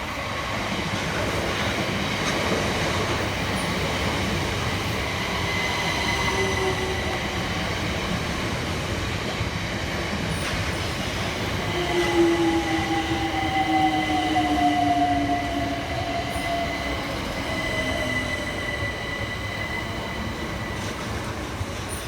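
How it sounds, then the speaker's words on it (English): A Southeastern Class 376 electric train rolls into a suburban station on the Hayes line, a steady rumble of wheels on rail with squealing brakes rising and fading as it slows, no voices present. "Arriving next into the station is 376001 and 376015 with the 1810 Southeastern service from London Charing Cross through to Hayes."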